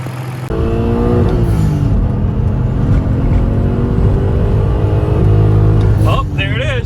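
A turbocharged BMW E39 wagon's M54 straight-six, with MS43 engine management, runs with one cylinder shut off and misfiring, a loud, steady, rough drone that holds evenly after a sudden start.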